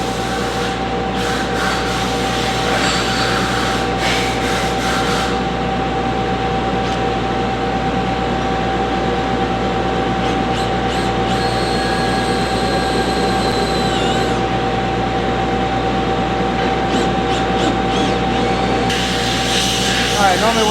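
A drill driving a worn, dull unibit step bit into metal gives a loud, steady whine with a constant tone. It runs close and continuous for about twenty seconds, with brief pitch changes as the bit bites.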